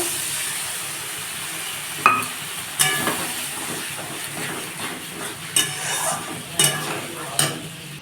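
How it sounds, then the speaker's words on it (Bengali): Masala with mustard paste sizzles steadily in hot oil while being stir-fried for an egg curry, with scraping clinks of a spatula against the pan at irregular intervals. "মশলাটা কষানো হয়ে গেছে"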